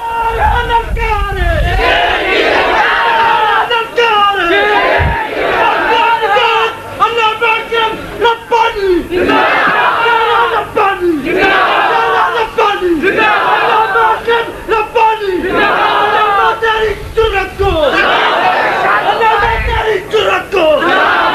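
A large crowd at a religious debate gathering shouts together in rhythmic unison, repeated chants rising and falling, loud and close, filling the whole stretch with massed voices.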